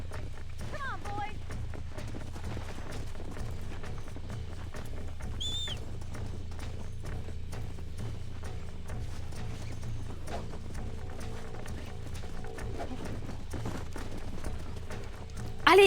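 Horse hooves clip-clopping at a steady running pace in the game Red Dead Redemption, with a brief whinny, under game dialogue and background music.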